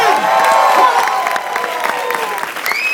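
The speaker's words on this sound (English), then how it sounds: "Come on, cheer for them." Opening-night festival crowd at the South Asian International Film Festival cheering and applauding loudly, a dense wash of claps and shouts with whoops rising above it throughout.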